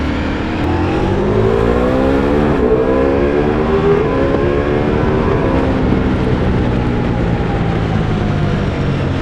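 Ducati Multistrada V4 Rally motorcycle engine in sport mode, loud and close, revving and accelerating with rising pitch sweeps throughout, no talking.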